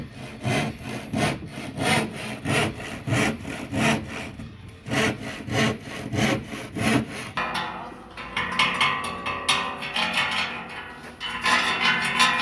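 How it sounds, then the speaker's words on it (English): A handsaw rips through plywood in steady back-and-forth strokes, close and clear, each rasping pass about a second long at a beach house build site, with no talk over the cutting. "There's that Nardo setting up here to cut some plywood. Doing it his way, the handsaw way"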